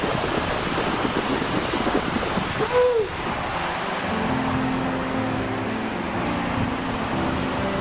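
Sudden rain and wind sweeping over a rooftop garden: a dense, continuous wash of hissing and rushing that holds steady throughout, with a brief higher tonal sweep near the start.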